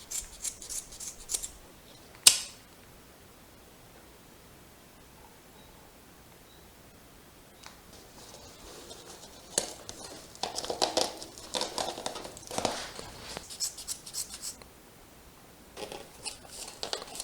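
Scissors cut through excess luggage strap on a dual sport motorcycle's soft bag: one sharp, close snip stands out early, followed later by clusters of crisp snipping and rustling strap sounds with quiet gaps between.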